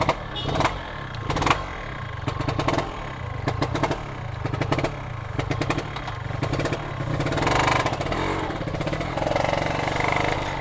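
A 2004 Yamaha RX-King two-stroke motorcycle engine running close by during a ride, a loud buzzing drone with repeated revs rising and falling over ten seconds, no talk.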